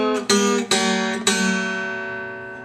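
A short run of guitar notes, a blues lead-up in G, played as several plucked attacks that ring and slowly fade, close and alone.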